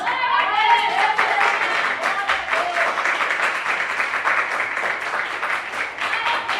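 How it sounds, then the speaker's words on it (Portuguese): Scattered, hesitant clapping from a church congregation during a sermon, a thin patter of hands that stays steady and moderate throughout, with a faint murmur of voices mixed in. "Eu vejo as palmas tímidas"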